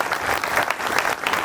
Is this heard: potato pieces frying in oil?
no